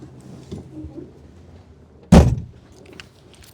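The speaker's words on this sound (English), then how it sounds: "Door closes nice and solid." One solid thud of a 1963 Volkswagen Beetle door shutting, heavy and close, following a stretch of quiet ambient rustle.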